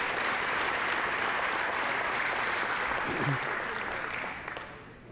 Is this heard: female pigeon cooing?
no